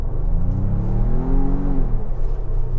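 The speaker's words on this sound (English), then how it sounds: "You kind of rev it hard here." A 2023 Ford Bronco Wildtrak's twin-turbo engine revs up and settles, the low engine note climbing and falling over a rumbling idle, loud and close with no talking.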